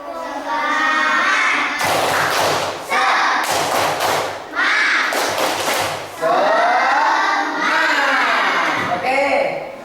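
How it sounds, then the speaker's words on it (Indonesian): A school class performs a rhythmic spirit clap, bursts of sharp hand claps and thumps alternating with children chanting together in several loud, evenly spaced rounds. "kita tepuk semangat dulu ya"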